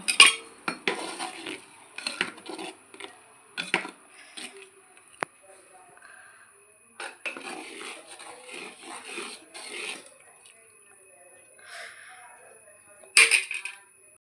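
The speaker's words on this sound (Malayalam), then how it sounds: "ഇനി ഇതൊന്നായി ഒന്ന് ഇളക്കി കൊടുക്കുക" A spoon stirs chili, turmeric and coriander powder in a pan for a shallot fish curry, giving repeated close metallic scrapes and clinks in irregular bursts, with a voice talking between them.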